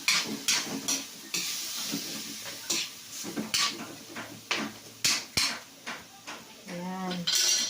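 Ground pork sautéing in a pan for a Filipino tortang giniling, with bursts of sizzling, scraping and clinking of a utensil against the pan in an irregular rhythm, plus a brief tonal sound near the end.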